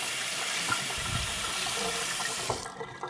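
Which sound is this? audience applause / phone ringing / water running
water running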